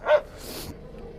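An East Siberian Laika at a hunting laika show in Yakutia lets out one short, close growling bark at the start, followed by quieter rustling background noise.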